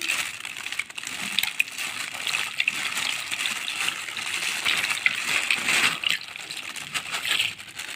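A quarter kilo of caustic soda crystals poured for homemade dish soap: a continuous close rattling, gushing pour with small surges, heard alone without talking.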